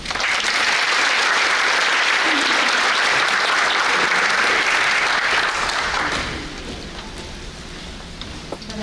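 A large audience applauds loudly at a scholarship award ceremony, dense sustained clapping that fades to a thinner patter near the end.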